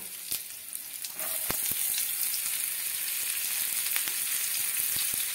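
Potato and chopped onion frying on a low gas flame, a steady close sizzle that swells after the first second, with occasional sharp clicks and no talking.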